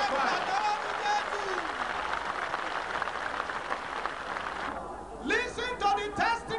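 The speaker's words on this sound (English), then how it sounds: "Give Jesus a clap offering and a choir." Large congregation clapping at a Lagos gospel crusade, a sustained roar of applause and cheering from a big crowd, with a preacher's amplified voice breaking through near the end.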